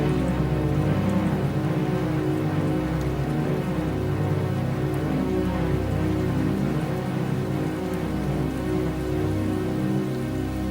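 Heavy rain pours steadily and loudly as dense, close patter drumming on surfaces without a break, with no voices over it.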